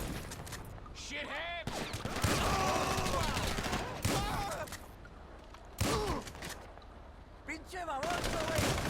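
Pump-action sawed-off shotgun blasts in GTA V, several loud spaced shots with pumping between them, mixed with game action and bursts of other gunfire.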